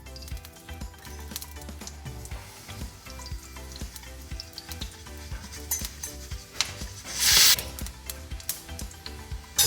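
Tempering spices crackle and sizzle steadily in hot oil, with a spoon stirring and clinking against the pan and a brief louder hiss burst partway through.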